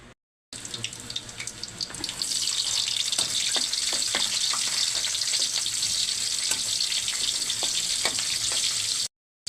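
Garlic and onion sauté in a pan, a steady bright hiss of frying with scattered pops and clicks, close and continuous for several seconds.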